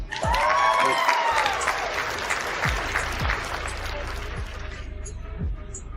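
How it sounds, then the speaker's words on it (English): Applause for a speaker at an online gathering, loud at first with a few whoops, then thinning out and tapering toward the end, with voices underneath. "Give her a round of applause, please"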